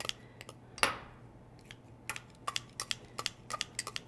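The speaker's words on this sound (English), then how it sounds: "I like to use a bowl and a scissors to chop it." Scissors snip cilantro in a bowl with quick, crisp cuts, one louder snip early on and then a faster run of close, clicking snips, with no talk heard.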